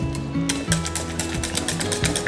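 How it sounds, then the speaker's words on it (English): Whisk tapping and scraping quickly against a pan while roux is beaten with milk, with close, rapid rhythmic clicks over a steady mechanical hum. "then we can use our whisk"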